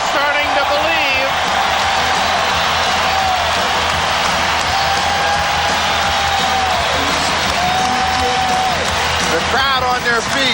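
A standing arena crowd roars and cheers at a 1991 NBA Western Conference Finals game between the Lakers and Trail Blazers in Portland, a loud continuous wall of noise with whoops and whistles under a commentator's voice.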